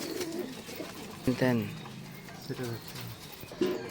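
Giribaz pigeons cooing in a home loft, a few soft throaty coos rising over a low background, with someone talking nearby.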